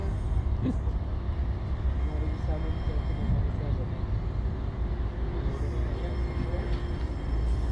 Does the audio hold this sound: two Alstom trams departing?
yes